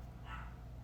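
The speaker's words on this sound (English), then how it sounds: "the dog just barked" A dog gives a single short bark indoors, muffled and fairly distant over a steady low background hum, with no talking.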